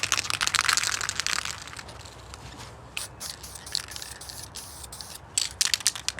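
An aerosol can sprays U-Pol satin black paint onto the fuel tank and straps of a 1998 Honda Civic VTi, with hissing bursts close up at the start and again near the end and quieter crackly handling noise between them.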